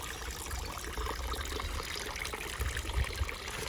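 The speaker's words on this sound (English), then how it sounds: "That there, the inflow from the water, it's spring fed." Water from a spring-fed inflow trickles and burbles steadily at a low, even level, with no voices.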